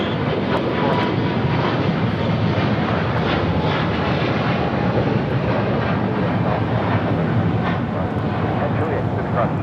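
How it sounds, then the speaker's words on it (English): A China Eastern Boeing 777-300ER jet takes off at LAX with a steady, loud broadband engine roar that holds throughout while a voice talks over it. "This is China Eastern Airlines 586 taking off to Shanghai on a 777-300ER"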